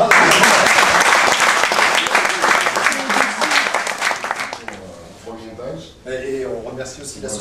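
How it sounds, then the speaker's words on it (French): Applause from an audience in a room, loud dense clapping at the start that thins out and fades as a voice begins speaking. "Applaudissements"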